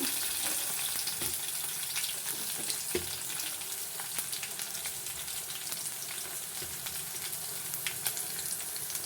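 Green chillies and onion fry in hot oil in a pan, a steady close sizzle with crackles and pops continuing throughout, no voices.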